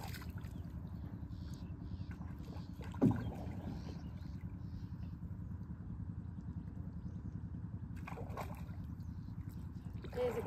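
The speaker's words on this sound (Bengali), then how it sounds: "নৌকা চালাইতেছে" A wooden boat is rowed along a village river, with a steady low wash of water and soft sloshing around the hull, plus a brief knock near the start.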